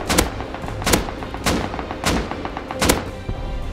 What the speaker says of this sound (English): Trying to repair his house and people are bombing him.